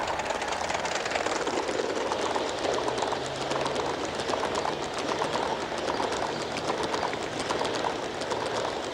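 Small model train running on a garden railway outdoors, a steady continuous rumble and clatter throughout with a busy wash of outdoor noise and no talk.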